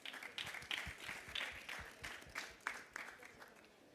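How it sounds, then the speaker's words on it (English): Faint audience applause for panelists at a talk on sustainable food systems, a steady patter of many hands clapping at a distance throughout. "can everyone please give our fantastic panelists another round of applause?"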